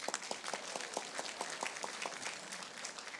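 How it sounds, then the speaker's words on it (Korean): Applause from party members at a Seoul city party debate forum, a steady wash of many hands clapping, moderately distant and fairly faint, with no voices over it. "여러분 이 부분에 대해서 박수 한번 쳐줘야 하나요?"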